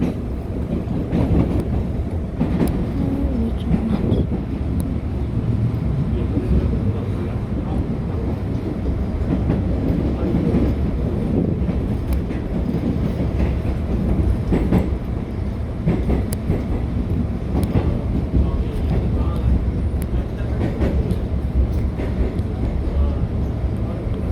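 A Seoul subway train, a modified S-series car, rolls steadily along the rails with a continuous low rumble and faint clickety-clack, with voices talking over it throughout.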